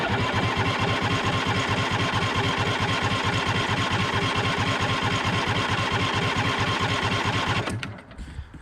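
John Deere D140 lawn tractor engine cranking on full choke, a rapid steady chugging rhythm that runs for several seconds then cuts off abruptly.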